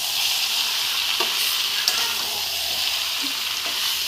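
Green jackfruit sautéing in oil in a small wok, a steady loud sizzle with occasional scrapes and clinks as the pieces are stirred close by.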